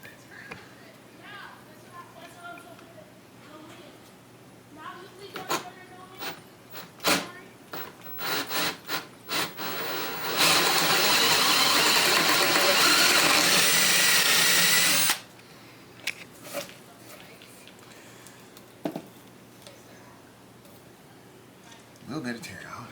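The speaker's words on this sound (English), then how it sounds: "so you have a guide here to drill the front hole" A power drill bores the front hole into wood through a drilling guide for about five seconds, loud and steady, surrounded by scattered knocks, handling noises and people talking.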